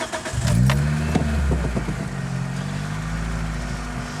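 A Toyota Corolla XRS engine with a bad throttle body starts and settles into a steady idle, a loud low hum with a brief higher whine at startup, heard close and alone.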